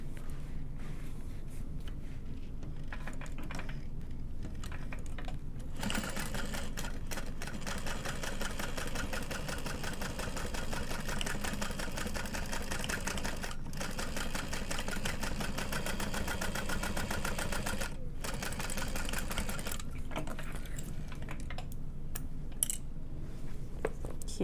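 A sewing machine runs continuously while top stitching a bag, a steady mechanical whir with a few short pauses and restarts along the way, close and moderately loud.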